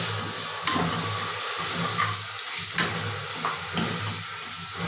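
Egg and greens being stirred in a hot pan, a soft, continuous sizzle broken by a few light scrapes and taps of the spatula at irregular intervals, with no talk.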